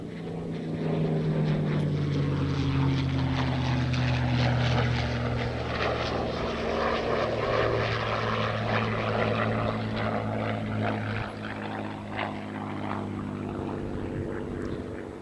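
A P-51 Mustang propeller airplane drones steadily overhead, its engine a loud continuous roar with shifting pitch as it passes, no voices.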